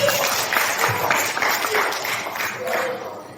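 A studio audience claps for a young girl who is a double super champion, a dense burst of applause that slowly fades as voices speak over it.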